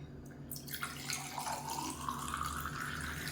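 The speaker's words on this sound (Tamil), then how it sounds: "இப்போ எதோ ஒரு கிளாஸில் ஊற்றிக்கலாம்" Amla buttermilk (nellikai mor) poured from a vessel into a glass, a steady liquid trickle and splash running nearby for about three seconds with no talking.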